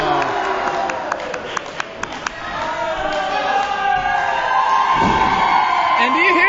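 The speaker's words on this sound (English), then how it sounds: "And do you hear this crowd roaring for Scott Fowler?" A wrestling arena crowd roars and whoops for Scott Fowler at an RWA event, a broad sustained din with a few sharp slaps early on and a commentator talking over it.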